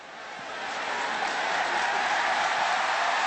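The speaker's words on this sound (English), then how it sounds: "And the crowd roars its approval of that decision." A football stadium crowd at a 2009 Auburn vs Ball State college game roars and applauds, a broad, steady wash of cheering and clapping that swells in the first second and then holds.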